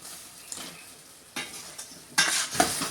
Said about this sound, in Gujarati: સારી રીતે મિક્સ કરી લઈએ અને શેકાવા દઈશું થોડી વાર